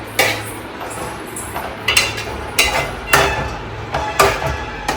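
A spoon knocks and scrapes against a bowl while paneer is mixed, giving about seven sharp clinks at a steady rhythm, close and fairly loud, with no voices.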